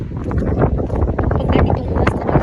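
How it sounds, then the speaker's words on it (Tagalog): Strong gusty wind buffets the microphone outdoors on a waterfront promenade near a Ferris wheel, a loud continuous low rumble with irregular surges throughout. "Masyadong mahangin ngayon."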